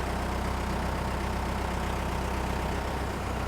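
A Pettibone 10056 engine idles steadily at a constant drone, loud and close, with no speech and no change in pitch throughout.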